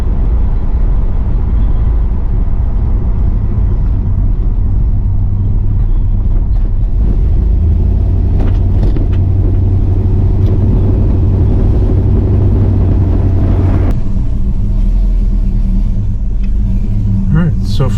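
A warmed-up Pontiac LeMans engine idles low and steady near 500 RPM, a loud close rumble running throughout while someone talks over it.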